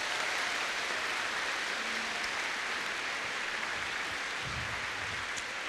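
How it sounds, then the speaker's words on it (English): Audience applause for the judges at the BT Young Scientist and Technology Exhibition 2025 opening ceremony, a steady, faint wash of clapping from a large hall crowd that holds evenly throughout. "So give the judges a huge round of applause."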